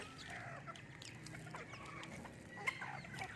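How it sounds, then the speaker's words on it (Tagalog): Serama chickens in a backyard flock, soft clucks and chirps from several birds at a moderate distance, faint and overlapping, with one sharper cluck near the end. "yung mga bago kong alagang manok, mga saramo po"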